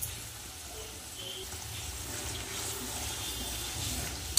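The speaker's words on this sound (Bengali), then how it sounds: "এবার আমি একটু জল দিয়ে দেবো।" Water pours into a pan of simmering curry made with yogurt, tomato and chhana-and-green-banana kofta, a steady close splashing stream that runs continuously for a few seconds with no talking.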